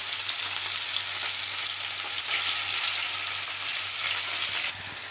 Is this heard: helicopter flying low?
no